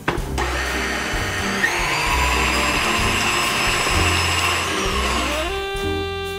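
An electric mixer whirs steadily as it beats cookie dough for ice cream cookie sandwiches, a continuous motor drone with harmonic whine running throughout and winding down toward the end.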